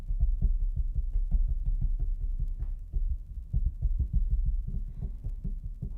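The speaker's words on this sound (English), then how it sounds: "I'm tapping on the desk right now." Steady, soft tapping on a desk, dull low thumps picked up close by a microphone in a quick, uneven rhythm with no talking.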